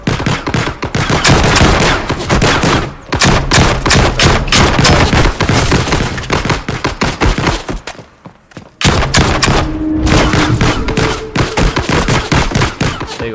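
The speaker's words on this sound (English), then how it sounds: "I can play the game, I can shoot" Rapid bursts of gunfire from an Unreal Engine 5 shooter game streamed in a browser, loud and dense, with sustained volleys broken by one brief pause near the end.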